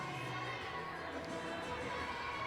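A sellout crowd of 1,100 fills the arena at an Auburn gymnastics meet against Florida, a dense, steady roar of chatter, shouts and cheering heard from within the stands.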